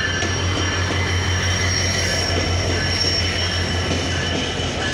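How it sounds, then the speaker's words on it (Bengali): Down intercity Nilsagar Express from Chilahati to Dhaka, hauled by locomotive 6631, rolls into Saidpur station with loud, steady wheel rumble, a sustained squeal and clatter of railcars passing close by. "6631 লোকো নিয়ে চিলাহাটি থেকে ছেড়ে আসা ঢাকাগামী আন্তনগর ডাউন নীলসাগর এক্সপ্রেস ট্রেনটি বর্তমানে সৈয়দপুর ইন করলো"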